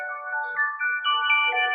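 A mobile phone plays a bright electronic melody as its ringtone, clear and close for under two seconds, with no talk.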